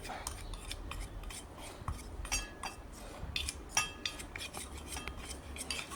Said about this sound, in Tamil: நல்லா மிக்ஸ் பண்ணிவிட்டு அப்ளை பண்ணணும்.